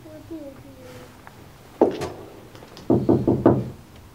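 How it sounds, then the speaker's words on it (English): Two bursts of knocking on a wooden door, a single sharp rap followed by a quick run of four or five firm knocks, loud and close over a faint murmur of speech in a classroom reading of Macbeth. "Whence is that knocking?"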